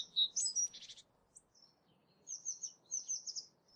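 Small birds chirp and trill in quick bursts, fairly faint and distant, with short pauses between phrases in a quiet outdoor setting around ponds in winter.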